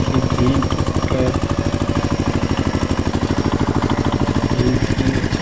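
A toy tractor engine putters in a steady, fast rhythmic chug with even pulses throughout, close and fairly loud, with no talking over it.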